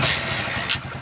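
Hero Splendor Plus motorcycle engine running at a steady idle just after starting, a loud close mechanical drone with a brief rise partway through.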